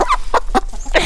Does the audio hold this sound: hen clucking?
yes